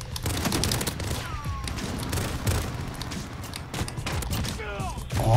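Rapid gunfire from an overpowered battle pass secondary weapon in the Modern Warfare shooter, with dense bursts of shots, mechanical clatter and in-game effects filling the whole stretch at a steady, fairly loud level.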